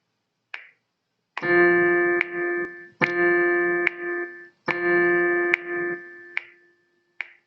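Electronic keyboard tones sound in sustained held notes, grouped in a steady rhythm, each note ringing clearly before the next begins, with key clicks between.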